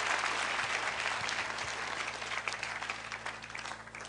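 A crowd at a funeral gathering applauds, a dense burst of clapping from many hands that stays steady and fairly loud before tapering slightly toward the end.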